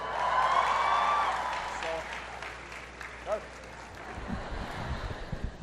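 Audience at a presidential town hall in Lima, Peru, breaking into applause and cheering, a loud sustained wash of clapping that fades into scattered claps with a voice speaking near the end.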